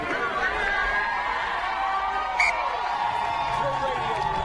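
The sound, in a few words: stadium crowd cheering at a rugby sevens match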